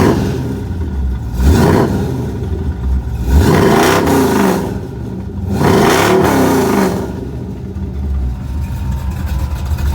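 A 1985 K10 truck's loud engine is revved three times in quick succession, each surge climbing and falling back to a rough, rattly idle with cam rattle underneath, close by and with no talking.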